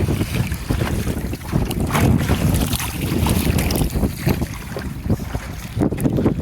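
A boat crosses a river toward a sandbar island, its movement on the water mixed with heavy wind buffeting the microphone in uneven, rumbling gusts.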